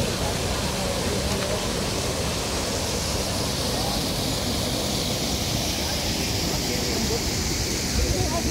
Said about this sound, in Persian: بچه ها اینم قسمت آبشار، رسیدیم به آبشار